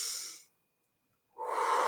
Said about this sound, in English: take a deep breath